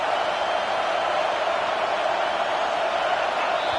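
A football stadium crowd roars on third down to back the defense, a loud, steady wall of noise with no breaks.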